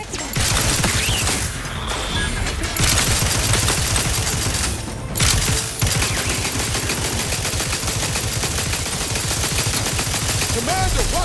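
Dense, loud gunfire from The Outer Worlds 2 video game, rapid automatic bursts rattling almost nonstop with two brief gaps, layered under game combat noise and some faint voice.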